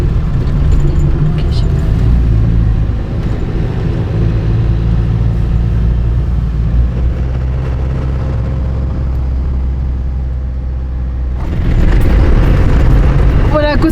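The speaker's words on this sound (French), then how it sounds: "Voilà à quoi ça sert d'avoir un 4x4. Prendre ce genre de petite piste pour trouver un petit bivouac sympathique." A 4x4 vehicle grinds along a narrow dirt track, its engine rumbling loud and steady throughout with a deep low drone, briefly easing off before surging louder again near the end.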